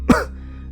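A single short cough from Asep, a character in a dramatized Indonesian supernatural story, close and clear, followed by quiet background hum.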